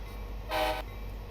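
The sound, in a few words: Amtrak F59 train stopping in video game Train Sim Classic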